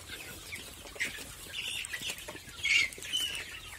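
Broiler chickens on a small village poultry farm cluck and chirp softly in a busy, overlapping chorus, with occasional brief wing flutters and no voices.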